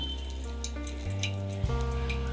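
Bay leaf, cinnamon and cloves frying in hot ghee as the base for jeera rice, with a steady crackling sizzle close by under a sustained tonal background hum.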